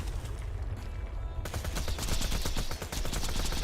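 Rapid SMG bursts from the video game Borderlands, loud and close, a dense rattling string of shots that starts abruptly partway in and continues steadily to the end.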